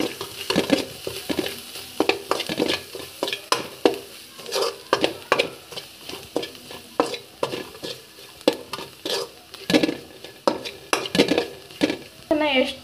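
A spoon scrapes and stirs egg rice with coriander powder in a hot pan, making repeated clinks and scrapes in an uneven rhythm over a low, steady sizzle.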